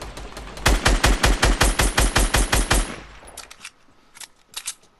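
Rapid automatic gunfire in a battle royale video game, about a dozen loud, evenly spaced shots in a quick burst, followed by a pause and a few scattered, fainter shots and game sounds.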